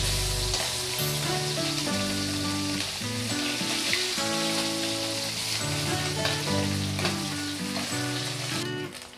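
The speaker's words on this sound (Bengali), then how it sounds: "মাছগুলো আমার এক পিঠ ভেজে নেওয়া হয়ে গেছে এবার আমি অপর পিঠে উল্টে দেবো" Puti fish frying in hot oil in a home kitchen pan, one side already browned before flipping; a close, loud, continuous crackling sizzle runs steadily throughout with no talking.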